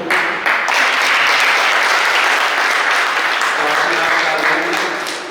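Loud, dense applause from a large audience at a study camp gathering, sustained and even throughout before tapering slightly at the end.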